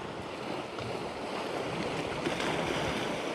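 Caribbean Sea waves wash against rocks on the coast of Antigua near where the sea meets the Atlantic Ocean, a continuous broadband surf roar with light wind buffeting the microphone, steady and fairly close.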